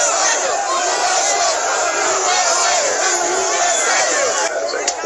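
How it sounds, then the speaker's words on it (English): A large crowd of rioters at the U.S. Capitol cheering and shouting, a dense continuous roar of many voices recorded in footage, loud and sustained throughout. "the crowd cheering that they have won"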